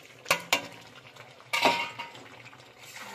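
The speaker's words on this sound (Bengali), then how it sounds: "হালকা ভেজে রাখা পেঁয়াজটা আমি দিয়ে দিচ্ছি।" Lightly fried onion tipped into a pan of capsicum chicken with slit green chillies: a couple of sharp metal clinks of a spoon on the pan, then a louder scraping, sizzling burst as the onion lands and is stirred, fading into a soft hiss.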